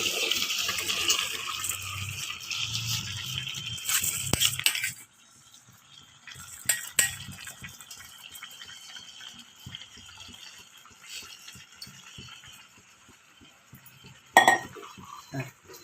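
Water and rice go into a pot of boiling fenugreek-leaf masala, with clinks and splashing liquid at first, then quieter bubbling and occasional knocks of a utensil against the pot.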